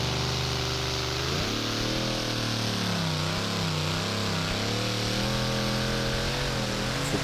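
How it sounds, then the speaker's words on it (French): A 2500-horsepower V8 pulling tractor with its engine mounted behind the cockpit roars through a full pull at a tractor pulling event, loud and sustained, its pitch rising sharply early on and then wavering as it strains. "Il faut pouvoir dompter les 2500 chevaux de ce V8"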